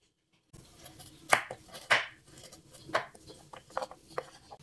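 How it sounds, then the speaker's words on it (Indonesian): Carrots cut into thick pieces with a knife on a board, a few distinct irregular chops with quieter handling sounds between them, close and clear. "Wortelnya saya potong agak tebal seperti ini."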